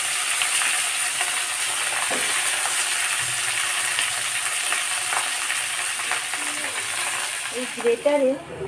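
Drumstick, eggplant, potato and greens sizzle and fry steadily in hot oil for a vegetable curry, a continuous close crackle with occasional stirring clinks and a brief voice near the end.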